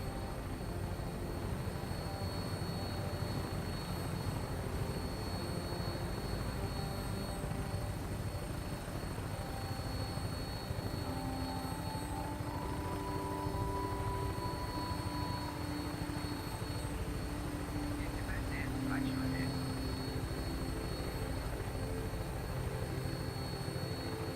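A Brotherhood of Steel aircraft in Fallout 4 taking off and flying, a constant droning rotor and engine roar that holds steady and loud throughout, with faint distant effects underneath and no talking.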